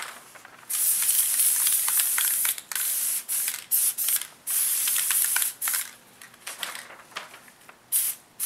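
Repeated hissing bursts of an aerosol spray adhesive can, close and loud, in uneven pulses separated by brief pauses.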